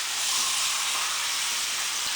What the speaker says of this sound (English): My sizzling curry chicken.